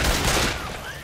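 A gunshot in Left 4 Dead 2 opens with a loud, sharp burst that decays within about a second, with no talk over it.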